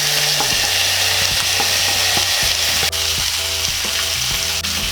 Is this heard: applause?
no